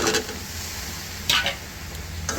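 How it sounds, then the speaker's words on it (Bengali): Hyacinth bean seeds frying with potatoes in a pan while being stirred, a steady sizzle with a couple of sharp scraping strokes, close and alone. "আমার বিচিগুলো কষানো হয়ে গেছে এর ভিতরে এখন আমি আলু দিয়ে কষাবো"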